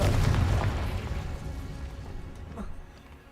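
An explosive spell blast in Hogwarts Legacy, a loud fiery boom at the start that rolls off into a long crackling decay, with a faint voice-like sound later on.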